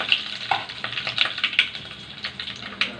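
Cumin seeds and dried red chilies fry in hot oil for palakura pappu, giving a close, steady sizzle with quick crackles and pops scattered throughout.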